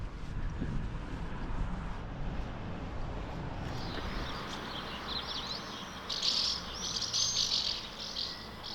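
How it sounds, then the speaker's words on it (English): Birds chirp and tweet in the quiet centre of an abandoned French town, with steady faint calls over a soft background hum and a brighter, closer burst of tweeting late on. "No cars, no people, just birds."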